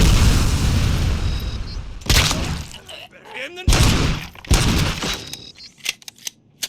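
Loud, close gunfire from the game Robocop Rogue City: heavy booming shots and rapid bursts with sharp cracks and thuds, breaking off into gaps, with a voice shouting over the action.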